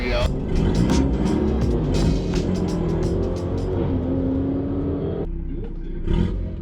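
A Stage 2 Mini accelerates hard down a drag strip with passengers aboard, its engine revving loud and close as gears climb, then dropping off near the end as the run ends; people talk over the engine.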